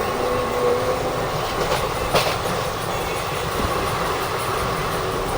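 Passenger train from Kolkata to Haridwar running on rails, a steady rumbling roar with faint rhythmic clatter of wheels over joints, heard from inside the carriage, no talk.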